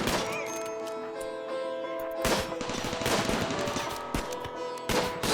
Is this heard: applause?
no